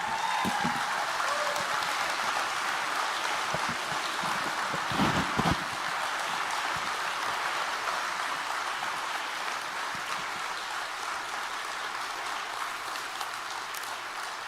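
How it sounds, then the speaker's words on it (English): A crowd at the Texas Youth Summit in The Woodlands, Texas, claps in a dense, sustained round of applause that stays fairly loud throughout and eases slightly toward the end. "Let's stand up and give those folks a round of applause"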